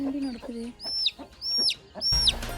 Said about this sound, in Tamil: இந்த கோழி குஞ்சுகள்லாம் பார்த்திங்கன்னா ஒன்றுமே உள்ளே வரவே மாட்டேன்ருச்சு